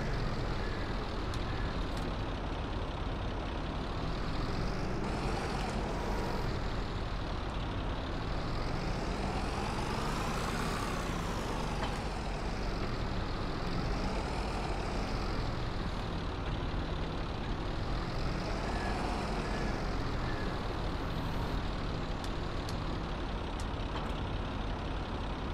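A vintage tractor engine in Farming Simulator 22, a constant heavy diesel drone with slowly rising and falling pitch as it works, loud and unbroken throughout.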